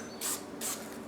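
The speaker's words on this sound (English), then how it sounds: "I use Hornady case one-shot case lube. So this stuff, it's all right. You just kind of spray." Two short hissing bursts of Hornady One Shot case lube spray onto new 6mm Creedmoor brass, quiet and close, each lasting about a fifth of a second and separated by a brief pause, with no speech.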